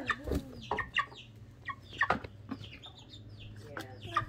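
A baby chick clucks and peeps in short, separate bursts, several calls spaced irregularly and close by, with some faint background voices in between.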